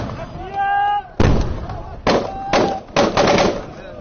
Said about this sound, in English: More explosions of gunfire.